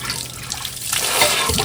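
Water splashes and pours steadily at close range, rising in level toward the end, with no voices.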